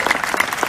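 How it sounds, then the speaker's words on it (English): A rally crowd in Las Vegas claps steadily, a dense, even burst of applause with no speech over it. "Go ahead and clap if that resembles you."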